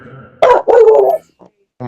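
A dog barks twice in quick, loud bursts near a college football broadcast, followed by a couple of brief, softer yips, with crowd and announcer background faintly underneath.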